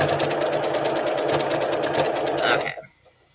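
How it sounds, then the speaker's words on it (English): A sewing machine stitches a cropped sweatshirt waistband at a longer stitch length of about 4, running in a steady, fast, close rhythm for nearly three seconds before stopping abruptly. "And just sew this all together here."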